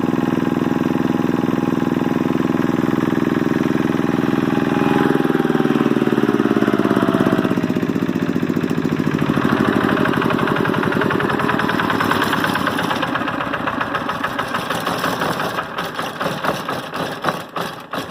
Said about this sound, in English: engine is trying to run away from me